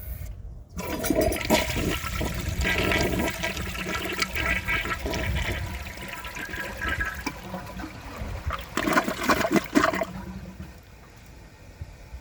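A 1987 Kilgore Aladdin toilet flushes an old dish towel: a loud, rushing flush that fades into gurgling, with a second surge of water before the bowl settles into a quieter trickle as it refills.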